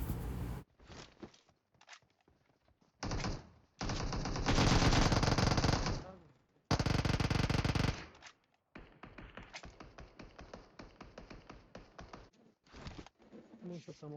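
Gunfire in the video game PUBG on the Erangel map, with rapid automatic bursts and single shots in several loud separated volleys, a voice talking between and over them.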